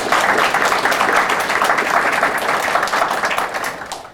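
A lecture audience applauds an associate dean of health sciences at a 40th anniversary gathering, with loud, dense, steady clapping that fills the whole stretch before easing slightly at the end.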